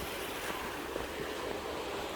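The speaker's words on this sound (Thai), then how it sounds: "I love that the water flows everywhere in this village." Water flows through channels in a village set in a canyon valley, a steady broad rushing wash close to the microphone with no pauses and no talking.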